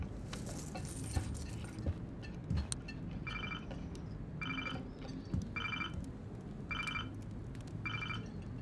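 Keys jangle and rattle in the video game Life is Strange, short metallic bursts under a background hum, followed by a series of repeated bright ringing chimes at regular intervals.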